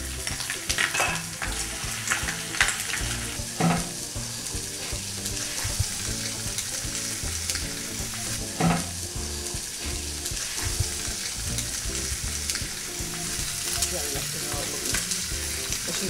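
Steady, dense sizzling and crackling of peppers and eggplant cooking on a hot grill, continuous throughout with a few louder pops and no voices.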